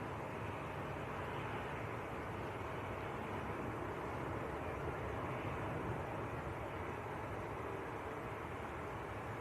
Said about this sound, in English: KLM just touching down.